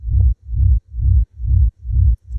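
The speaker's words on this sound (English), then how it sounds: "It looks like I've got this rumble loop." A deep, booming bass rumble pulses in a steady loop, five or six heavy throbs with short gaps between them.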